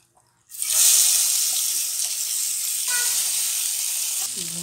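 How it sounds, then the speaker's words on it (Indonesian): Peanut sauce spices for sambal kacang hit a hot pan and burst into a loud, hissing sizzle after a moment of quiet. The sizzle then holds steady and strong with a faint scrape near the end. "Kita tumis bumbu kacangnya dulu ya"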